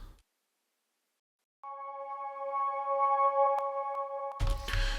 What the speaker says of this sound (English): put a bunch of reverb and delay effects on it, and then reverse it